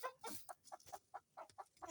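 Kienyeji chickens on a Kenyan farm, a rooster among hens, give a run of short, faint, evenly spaced clucks close by, about ten quick calls with no talking.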